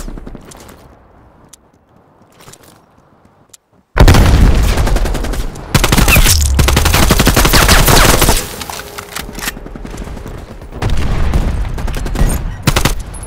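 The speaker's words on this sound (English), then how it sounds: "That guy's just shooting at the ground." Call of Duty: Black Ops Cold War hardpoint match: a quiet start, then sudden loud sustained automatic gunfire with heavy booming bursts, continuing in dense volleys that ease and swell again near the end.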